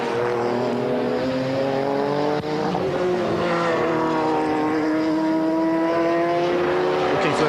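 Two 1995 GT race cars at the Jerez circuit, a McLaren closing behind a Ferrari, roar loudly and continuously with rising and falling engine pitch as they sweep past together.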